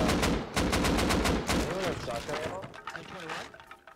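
Fast bursts of gunfire in the survival video game Rust during a Christmas raid, loud sharp reports packed close together at first, then thinning out as a voice talks over the tail.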